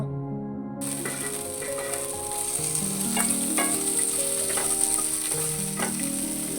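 Chopped onion, coriander and mint leaves fry loudly in a pan for methi pulao, a dense close sizzle with stirring scrapes and occasional crackles, no voices.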